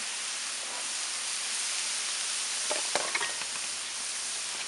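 Stir-fry vegetables cooking on a Blackstone griddle give off a steady, even hiss, with a brief burst of crackle and a few scraping taps near the end.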